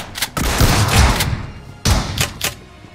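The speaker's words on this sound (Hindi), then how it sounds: "अभी सामने पेट्रोल पंप पे बंदों की फायरिंग की साउंड आ रही थी" Gunfire near a petrol pump in BGMI: two loud bursts of rapid shots, each roughly a second long, close and harsh with brief pauses between.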